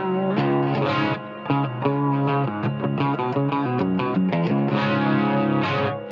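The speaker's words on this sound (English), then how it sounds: "it freezes the reverb and then you can play over top." Electric guitar played over a sustained frozen reverb pad from an Eventide Blackhole pedal, with melodic notes ringing out on top of a steady, dense wash of held tones throughout.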